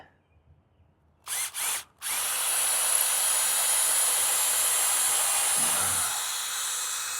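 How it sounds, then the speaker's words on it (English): A power drill whirs in two short bursts, then runs steadily for about four seconds drilling a pilot hole in wood, close and loud, before winding down. "Drill a pilot."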